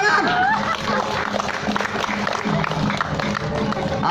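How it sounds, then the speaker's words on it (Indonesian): A crowd at a temple performance in Banjarmasin gives dense applause, mixed with chatter and some laughter, holding at a steady, fairly loud level. "Tepuk tangan."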